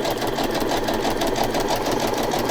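A sewing machine runs continuously with a rapid, even mechanical chatter, loud and close, set to a wide zigzag stitch of length 3.0 and width 5.5. No voices are heard.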